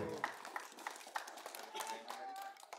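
A small crowd claps for a boy named Diego at an event where children receive backpacks, with scattered, uneven handclaps at moderate distance and voices underneath.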